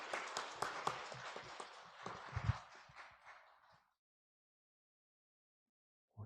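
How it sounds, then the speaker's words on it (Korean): Church congregation at a Sunday service applauding class leaders, a dense burst of many hands clapping for nearly four seconds that cuts off abruptly into silence. "박수로 축복할까요?"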